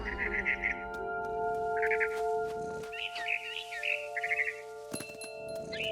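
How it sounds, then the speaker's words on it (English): Short bursts of high, fluttering barn swallow chirps in What Remains of Edith Finch, several separate calls over a steady low tonal hum, fairly faint, with a sharp knock near the end. "Then I heard chirping outside my window. It was a barn swallow going back to her nest."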